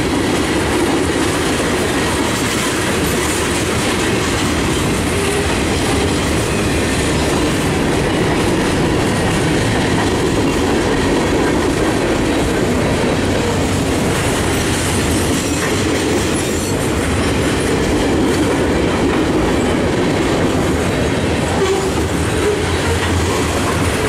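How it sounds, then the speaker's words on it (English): A train rolls past close by, a loud, steady rumble of wheels on rails with clattering and faint squeals, sustained throughout. "I'm sure this train's got a DPU somewhere in this train."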